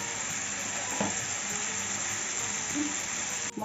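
Spice paste for a Bengali aar fish curry sizzles steadily in hot oil, a close, even hiss with occasional faint stirring knocks, ending in a brief drop.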